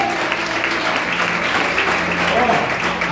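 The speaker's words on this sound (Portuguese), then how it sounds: "Quem pode aplaudir o nome de Jesus?" A church congregation applauds during a worship service, a steady wash of clapping with a voice and faint tones sounding underneath.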